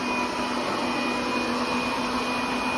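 An OKP K8 robot vacuum cleaner runs with a steady, fairly quiet motor whir and suction hiss, a constant even drone with a faint tonal hum throughout and no speech.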